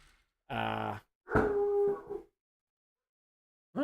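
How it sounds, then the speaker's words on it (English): Dog howling indoors, two short, fairly faint howls separated by a pause, the second one wavering and trailing off, with silence around them. "You guys can hear my dog."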